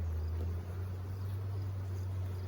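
A steady low hum of buzzing honey bees during a honey harvest drones continuously throughout, dense and close, with no voices.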